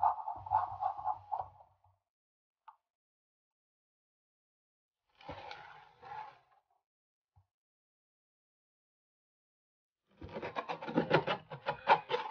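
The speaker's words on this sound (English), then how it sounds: "after stripping it, I used my scraper to remove a bit more" Paint being scraped off the grain of a beat-up vintage wooden dresser with a scraper after stripping, heard as a few short separate bursts of rough rasping with silent gaps between, the last burst longer and louder.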